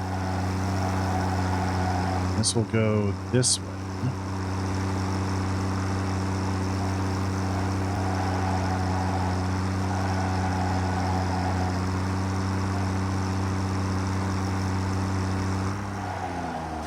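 A tractor engine in the video game Satisfactory drones at a steady, even pitch throughout, close and constant, with someone briefly speaking over it near the start.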